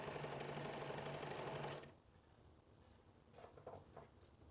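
A sewing machine stitches fabric ties for a tiered skirt, running in a fast, even rattle for about two seconds before stopping, followed by quiet handling of fabric.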